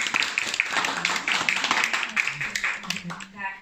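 Audience applause at a children's Christmas show in a kindergarten, a dense burst of many hands clapping that carries on steadily for several seconds, with voices mixed in throughout.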